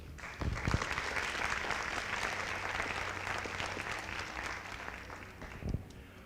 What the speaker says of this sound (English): Ladies and gentlemen, a round of applause for our lovely candidates.